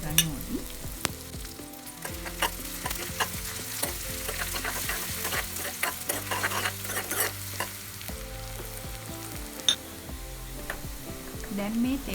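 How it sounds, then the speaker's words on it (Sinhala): Onion, green chilies and curry leaves tempering in hot oil for a dosa batter mixture, with a steady sizzle and frequent scraping and stirring clinks from the pan throughout. "ඒ වගේම කරපිංචා මුරුකුත් දාගෙන මේ ටික අපි හොඳින් තෙම්පරාදු කරගන්න ඕනේ."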